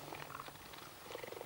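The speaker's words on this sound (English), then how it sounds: "All your fears evaporate, though, when you hear that loud purring." Cheetah purring loudly at close range, a steady rumbling drone with breathy rises and falls, heard alone without talk.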